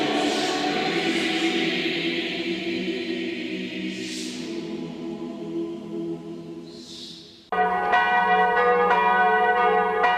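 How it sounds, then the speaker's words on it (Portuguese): Church bells of the basilica at La Salette, France ring for evening prayers, deep and resonant with a long sustained hum, then a fresh round of louder, brighter strikes cuts in and rings on, close and with no voices. "Os sinos da basílica tocam, chamando as pessoas para as orações da noite"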